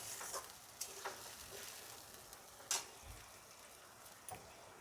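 Spice masala with tomato frying in a pan, a soft steady sizzle with a few faint scrapes of stirring, quiet and close.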